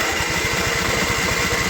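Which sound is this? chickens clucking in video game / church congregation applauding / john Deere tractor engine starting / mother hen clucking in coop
john Deere tractor engine starting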